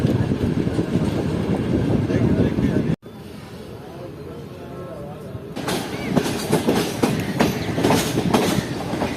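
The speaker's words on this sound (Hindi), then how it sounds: "तो ये ट्रेन पता नहीं सब कौन से प्लेटफॉर्म पर जा रही है" A Karachi Express passenger train rolls past the old Multan freight yard, loud continuous rumble and clickety-clack of wheels on rail, briefly muffled midway before returning, with people talking over it.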